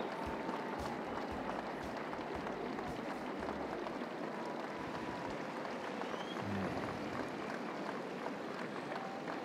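Steady crowd applause fills an arena after a dressage freestyle ridden by Juan Pablo Matute Guimont on Quantico, a continuous dense clapping wash heard from a distance without pause.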